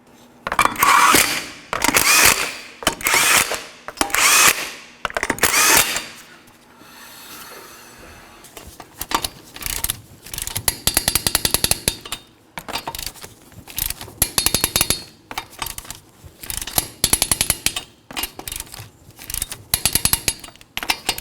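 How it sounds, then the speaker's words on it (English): A wrench turning the wheel lug nuts on a 2013-2019 Nissan Sentra, heard as close, repeated rasping ratchet bursts in short rhythmic runs separated by brief pauses, one after another across the wheel, with no talking. "torque each of these lug nuts to 87 foot-pounds"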